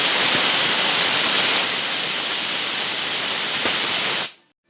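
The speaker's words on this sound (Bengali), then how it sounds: "আমি 4 থেকে 5টা সিটি দিয়ে দেখে নেব ডালটা ভালো সেদ্ধ হলো কিনা।" Pressure cooker cooking lentils on a gas stove lets off a loud, steady whistle that blows continuously for about four seconds and then cuts off abruptly into silence.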